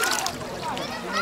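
Kids cannonball-jumping into a water park pool, with splashes and sloshing water mixed under constant chatter and children's voices nearby.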